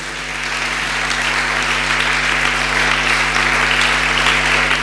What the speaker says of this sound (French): Est-ce que nous pouvons acclamer la parole de l'Éternel?